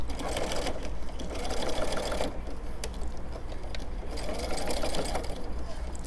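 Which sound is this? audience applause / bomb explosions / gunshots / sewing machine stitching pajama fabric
sewing machine stitching pajama fabric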